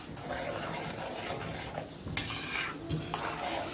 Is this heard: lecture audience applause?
no